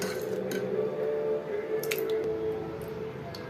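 A spoon stirs a thick potato and green pea kurma gravy in a pan, giving soft, close wet squishing sounds with a few light scrapes and clinks against the pan.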